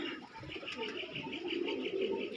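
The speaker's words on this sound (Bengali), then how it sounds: "এই যে আন্ধ্রার পায়রা" Pigeons coo softly in a steady, repeating rhythm, close by, with faint background noise.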